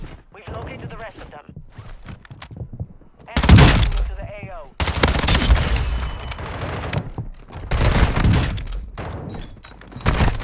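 A Lachmann Shroud gun firing in a video game, loud bursts of rapid shots broken by quieter gaps, with a player talking between and over the volleys.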